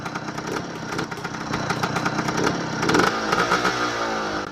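A Husqvarna 400 to 450 dirt bike engine runs steadily and loudly, a buzzing two-stroke-like drone that rises slightly in pitch and intensity near the middle before holding at a fast idle.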